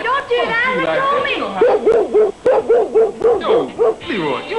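A dog in the 1993 film Up All Night barks in a quick run of rhythmic, yappy barks close by, interleaved with whimpers while people talk over it.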